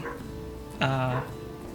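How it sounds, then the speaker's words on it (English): Dogs upstairs let out a brief, muffled yip with a whining tone, heard from somewhere overhead while people keep talking nearby. "I don't know if our viewers will be able to hear the dog cacophony above us"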